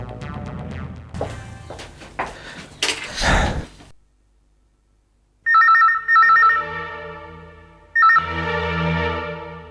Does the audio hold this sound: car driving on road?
no